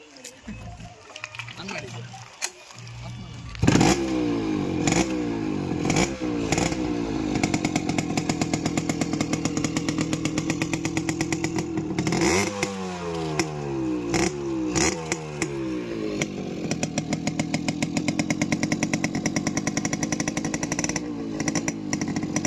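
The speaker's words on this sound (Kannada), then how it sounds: "ಗಾಡಿ ಆನ್ ಮಾಡಿ ಸ್ವಾಮಿ, ಸೌಂಡ್ ಕೇಳೋಣ. ಗಾಡಿ ಸ್ಟಾರ್ಟ್ ಮಾಡಿ ಸ್ವಾಮಿ." A modified Yamaha RX100 two-stroke motorcycle starts up after a few seconds and keeps running loud and close, with a rapid crackling idle and repeated throttle blips that rise and fall, while people talk nearby.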